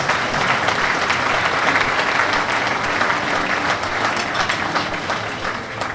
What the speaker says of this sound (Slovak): Privítajte aj ich potleskom, prosím vás.